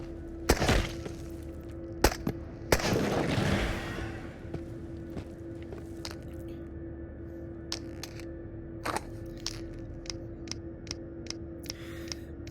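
Gunfire with armor-piercing ammo in the VR shooter Into the Radius: a few loud sharp shots early on with a rumbling burst, then sparse crisp clicks and thumps over a low steady hum.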